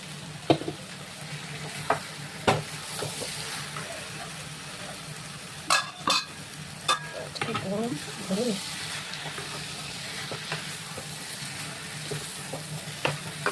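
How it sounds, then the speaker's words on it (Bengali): Young jackfruit stir-fries in a spiced masala in a pan, a soft steady sizzle with intermittent clinks and scrapes of a spatula stirring. "মশলাটা কষে গেছে এঁচোড়ের। এবার আমি এঁচোড়টা ঢেলে দেবো।"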